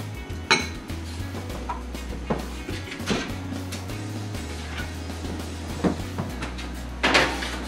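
A chicken pot pie goes into a 350 degree oven. Clattering dish and metal knocks, then the oven door thumps shut with a few more bumps near the end, over a low steady hum, with no talking.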